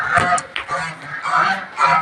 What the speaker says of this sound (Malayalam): 3 അരയണ്ണങ്ങൾ നല്ല സൗണ്ട് കേട്ടോ